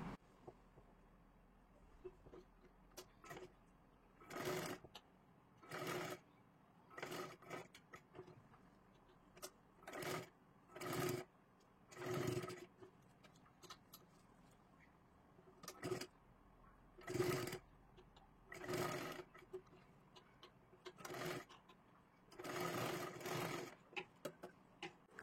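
A sewing machine stitches lace onto a sleeve in short repeated bursts of whirring, roughly a dozen runs separated by quiet pauses, close and fairly loud.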